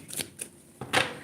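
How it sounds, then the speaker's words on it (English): A deck of cards rustles in a few short, crisp bursts, handled and riffled close by at low volume, ending in a slightly longer flutter. "let me get these cards out"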